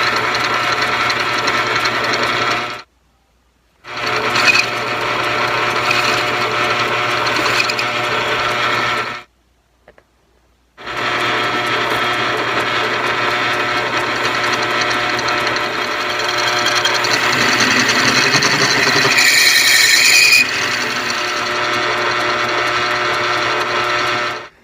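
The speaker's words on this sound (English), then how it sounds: "I'm going to use this cutter to make that a little bit more of a square cut." Cutter on a metal lathe squaring a step on a bin latch part, a steady whirring machining drone with a tonal hum, stopping and restarting twice, close and loud, rising into a brighter scrape near the end, no talk.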